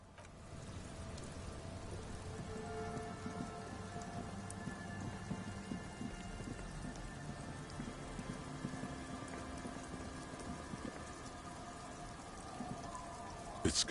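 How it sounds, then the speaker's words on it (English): Steady rain in the video game Disco Elysium, a constant hiss of drops pattering on surfaces throughout, with faint low rumbles and tonal game ambience underneath and no speech. "It's getting late, and it's raining."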